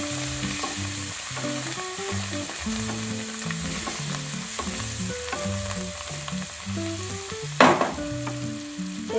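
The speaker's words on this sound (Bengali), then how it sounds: "এরপর নাড়াচাড়া করতে থাকছি।" Chili and turmeric powder frying in a pan while being stirred, a constant close sizzle broken by repeated scraping strokes and one sharp clatter near the end, with no voices.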